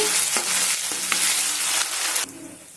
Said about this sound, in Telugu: కరివేపాకు కొత్తిమీర ఆయిల్లో వేగడం ద్వారా దాని ఫ్లేవర్ బాగుంటుందండి